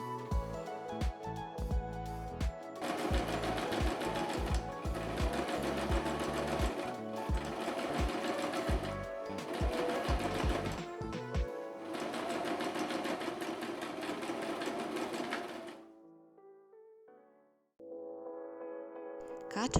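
A sewing machine stitching fabric for a shopper bag, a loud rapid mechanical whirring run with brief pauses, then stopping and starting again near the end, close and alone without talk.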